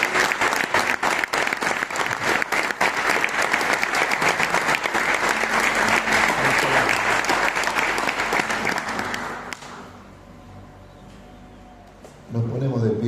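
A church congregation gives loud, sustained applause that fills the room for about nine seconds before tapering off, followed by a quieter stretch and a brief burst of voices near the end.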